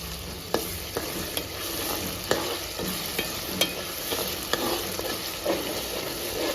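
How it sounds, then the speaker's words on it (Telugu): Green chillies frying and being stirred in a pan for Telugu-style fish curry (chepala pulusu), a steady close sizzle broken by regular sharp scrapes of the spoon, with no talk. "కొంచెం ఫ్రై చేసుకుందామండి పచ్చిమిర్చి కూడా వేసిద్దా దీంట్లో పచ్చిమిరపకాయలు"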